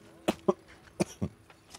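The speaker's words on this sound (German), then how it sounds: "Ja, Husten ist immer noch da." Several short, dry coughs in a quick cluster, then a brief pause and a couple more, close and moderately loud with a hint of throat clearing.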